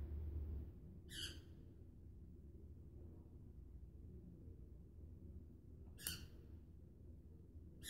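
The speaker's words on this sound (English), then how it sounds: "if you hear that squawking in the background, it's the bird." A pet bird squawks twice in the background of a quiet indoor room, two short harsh calls several seconds apart over a low steady hum.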